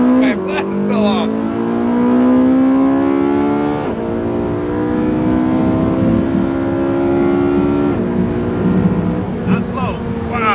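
Porsche 918 Spyder accelerating hard in a quarter-mile drag race, a loud, steadily rising engine note that climbs through gears with clear shift breaks, while people inside talk and exclaim over it.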